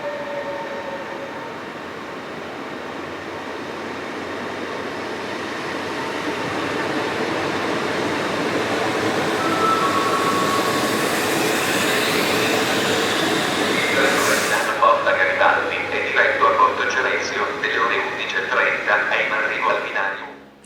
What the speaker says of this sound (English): These are operated by Trenord Jazz electric units,